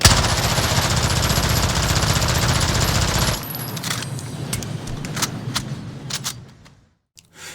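A fully kitted P90 submachine gun fires in Call of Duty: Modern Warfare. A long, unbroken stream of rapid shots rings out loud and close, then cuts off into a few spaced clicks and thuds before it fades to near silence.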